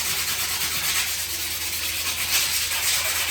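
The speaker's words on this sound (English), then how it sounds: "Use just regular sandpaper." Regular sandpaper rubbed over a finished joint compound surface around a tub surround, a steady close hissing scrape with gentle strokes.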